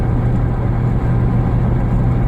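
A Chevrolet Trailblazer engine drones steadily from inside the cab after the transmission kicks down to fourth gear, with a constant loud rumble and road noise and no talking.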